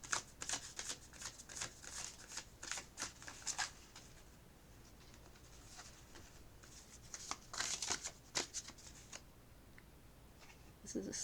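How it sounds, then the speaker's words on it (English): Slippery deck of tarot cards being shuffled, soft repeated riffling flutters in short bursts with a quiet gap midway, close and faint. "as we pull from these cards."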